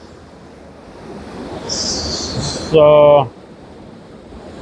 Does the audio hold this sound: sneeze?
no